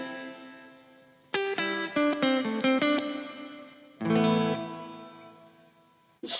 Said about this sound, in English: We've got hall reverb.